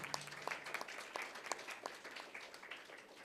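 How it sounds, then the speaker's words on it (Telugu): An audience at a children's music competition at Sri Tyagaraya Gana Sabha claps in scattered, fairly quiet applause, with individual claps audible throughout and a faint voice underneath. "చప్పట్లు కొట్టండి"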